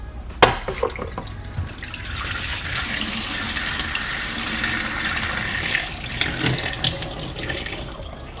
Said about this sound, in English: you see how the water does leak out the bottom once you guys open it